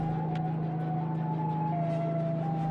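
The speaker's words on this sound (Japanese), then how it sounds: "あ、なんか後ろからなんかサイレンの音が。" Siren sounding from behind the player in the Krakatoa horror video game, a steady wailing tone that steps slightly in pitch over a constant low hum, loud and continuous throughout.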